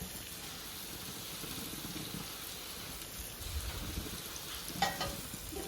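Chopped onions sautéing in coconut oil in a pan for prawn biriyani, a faint, steady low sizzle with occasional soft stirring scrapes and a brief clink near the end.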